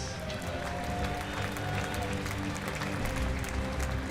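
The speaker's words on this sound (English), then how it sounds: "round of applause for all of our finalists in the women's 200 fly." Applause from an audience at a junior national swimming championship fills the space for the women's 200 fly finalists, a steady dense clatter of clapping under an announcer's voice.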